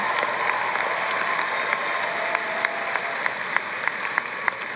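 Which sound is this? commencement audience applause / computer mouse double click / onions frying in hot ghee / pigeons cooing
commencement audience applause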